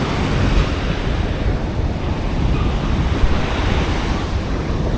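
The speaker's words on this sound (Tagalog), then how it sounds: "Malaki pala ang tubig. Lalaki na sa alon." Big ocean waves surging and breaking on the shore, a loud, continuous roar of surf mixed with wind noise on the microphone, steady throughout with no voices.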